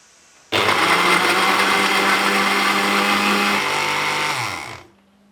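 A blender purees cooked sweet potato and vegetables for baby food, starting abruptly with a loud steady whir for about four seconds before winding down.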